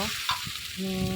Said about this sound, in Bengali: ভেজে নিচ্ছিলাম খুব ভালো করে, আস্তে আস্তে করে ভেজে নিচ্ছি।